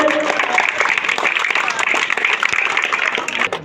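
A crowd applauds at a football league final ceremony in Kulgachhi, a loud, continuous clatter of clapping with voices mixed in underneath.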